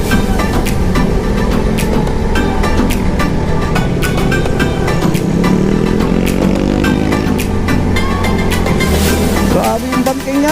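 A group of eight motorcycles rides downhill on a winding zigzag mountain road from Dagupan toward Asin, Baguio, engines droning and shifting pitch steadily and loudly throughout, with no talk.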